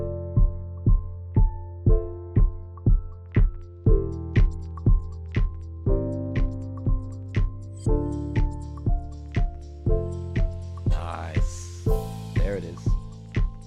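Looped drum pattern with cymbal, built in Ableton, repeats steady evenly spaced hits under sustained tonal notes, with a bright crashing cymbal swelling near the end; no voices.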